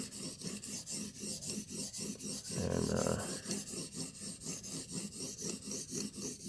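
A blade scrapes back and forth across a sharpening stone in a steady, gritty rhythm, close and continuous, with one longer heavier stroke midway.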